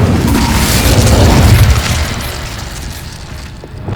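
An Incendio fire spell from Hogwarts Legacy goes off as a loud, booming blast, a dense roaring burst that swells for about two seconds and then slowly dies away.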